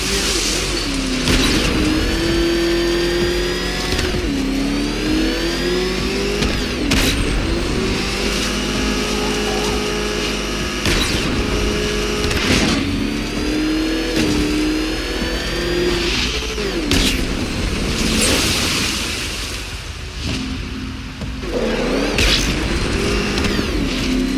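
A car engine in Batman: Arkham Knight revs loudly and continuously, its pitch rising and falling in repeated surges over a dense game soundscape with booms and mechanical clatter.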